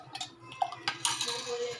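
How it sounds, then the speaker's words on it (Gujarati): A spoon stirs spicy-sweet pani puri water seasoned with salt and black salt in a bowl, producing a quick run of metallic clinks and scrapes followed by gentle swishing. "આપણે એને સરસ હલાવી લઈશું."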